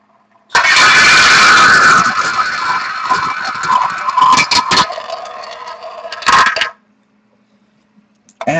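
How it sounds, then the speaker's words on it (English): A prize wheel spins in a sports card box break, giving a loud, continuous rattling clatter for about six seconds. It slows near the end, stops abruptly, and is followed by near silence. "so we're going to spin our wheel and cross-reference that with our team board."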